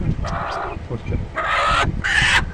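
A broody Aseel hen clucks angrily as she is lifted from her nest, giving two loud, harsh bursts of agitated squawking, close by, with rustling and handling noise between them.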